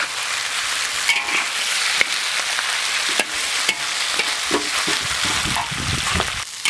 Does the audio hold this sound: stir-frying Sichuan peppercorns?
yes